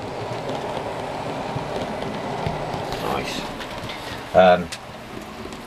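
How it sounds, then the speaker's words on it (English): An OO gauge model train runs through a tunnel on a layout in a shed, a steady low rolling rumble with light clatter throughout, then a brief louder knock near the end. "here we can see the train coming through the tunnel"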